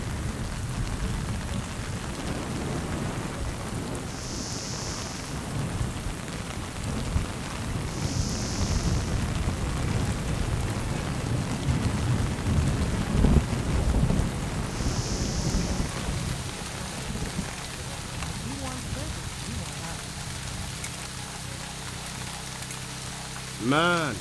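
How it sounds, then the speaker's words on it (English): Steady heavy rain hisses throughout a stormy scene in the video game Splinter Cell: Chaos Theory, with low rolling thunder rumbles underneath and a few faint short tones. "Man, it's really raining."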